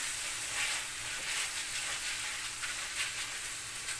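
Lamb pieces fry for saç kavurma with a steady, crackling sizzle, faint and close, with light stirring and brief bursts of spattering and no voices.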